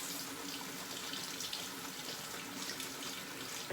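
Water runs steadily from a tap to wet Arko shaving soap, a close, even hiss of flowing water with a brief clunk at the end, no talking.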